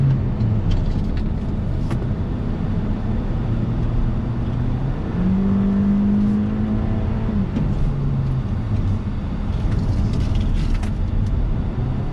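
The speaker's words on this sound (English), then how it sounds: "we're in the 2019 Toyota Camry XSE with the V6 on the loud pedal" A 2019 Toyota Camry XSE with the V6 accelerates hard from inside the cabin, a loud steady engine drone whose pitch climbs, drops at a shift and climbs again with road noise.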